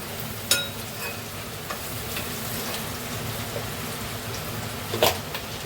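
Chopped onion frying in a pan for a home-style green masala cluster bean (gavar) dish, a steady low sizzle with soft crackle and a few sharper stirring clicks, no voices.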